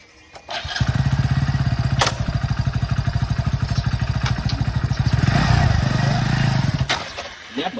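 A motorcycle engine runs close by for several seconds, a steady pulsing putter that swells slightly in the middle and then cuts off near the end.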